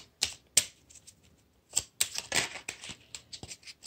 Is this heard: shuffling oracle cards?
yes